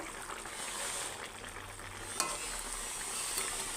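Eggs sizzle in a hot pan for a cauliflower egg curry, a soft, steady frying hiss with faint stirring, one small clink partway through, and no talking.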